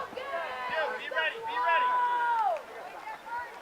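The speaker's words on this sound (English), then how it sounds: "Seems as if the crowd may be starting to get into the game" Little league baseball crowd cheering at a state championship game, a lively babble of many voices with whistle-like shouts and rising cheers swelling in the middle, then easing back to scattered chatter.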